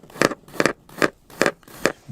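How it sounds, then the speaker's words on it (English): Five evenly spaced, scratchy clacks in quick succession mark fast typing on a cartoon family computer keyboard, close and clear with no talk. "She is typing very fast."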